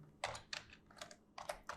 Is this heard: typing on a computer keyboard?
yes